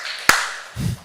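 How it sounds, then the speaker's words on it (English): Two claps from an audience at a HackATOM Seoul 2022 talk: one sharp, near clap, then a softer, duller burst of clapping, with no voices. "If you can hear me, clap twice"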